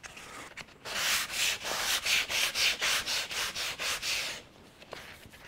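Hand sanding on the cracked bumper of a Firebird during prep for paint, a close, quiet series of about a dozen rhythmic rasping strokes, each a short scratchy rub, with no talking.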